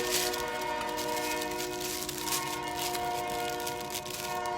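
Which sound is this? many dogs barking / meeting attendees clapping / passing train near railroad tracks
passing train near railroad tracks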